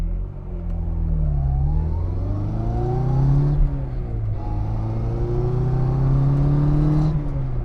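A 1963 Austin Mini Cooper revs and pulls through the gears while driving, its engine note rising in repeated climbs with a short drop between them, loud and close from inside the car, no talking.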